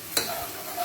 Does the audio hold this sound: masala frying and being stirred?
yes